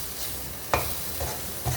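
A spoon stirs a frying mixture in a home kitchen pan, soft scraping strokes over a steady sizzle, close by and without talk.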